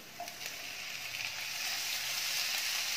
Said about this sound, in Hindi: प्याज को भूनते 3-4 मिनट हो गए हैं।